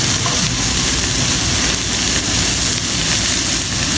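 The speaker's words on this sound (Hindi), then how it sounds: "अब इसको अच्छे तरीके से हम फ्राई करेंगे" Onion and tomato fry in a pan for aloo bhindi masala, giving a steady, loud, dense sizzle that runs unbroken throughout with no voices.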